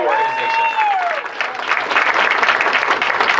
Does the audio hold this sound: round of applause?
yes